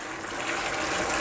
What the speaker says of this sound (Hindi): अभी मैं शामिल करूंगा इसमें 1 कप पानी